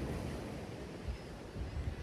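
Sea waves wash onto the shore with a steady low rumble and hiss, mixed with wind buffeting the microphone.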